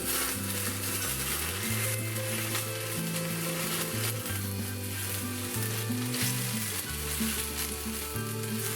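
Very hot ghee poured over beaten egg for chicken dabba gosht, giving a loud continuous sizzle with tonal hum underneath.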